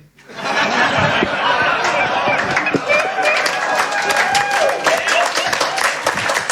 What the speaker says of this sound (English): It got applause, so I can go with it, I reckon.